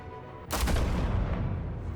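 A single sharp gunshot goes off in a Batman Telltale video game, loud and close, with a heavy booming tail that slowly fades after a quiet lead-in.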